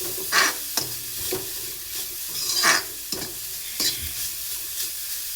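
Coconut mixture frying in a pan while being stirred, steady sizzling broken by repeated scraping strokes of a spoon at a regular rhythm, close and clear.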